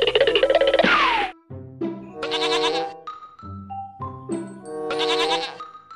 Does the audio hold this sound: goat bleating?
yes